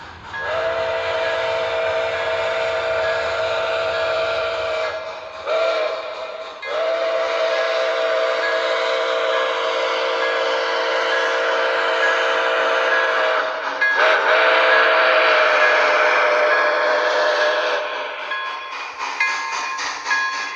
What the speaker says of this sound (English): That particular model actually has a smoking whistle.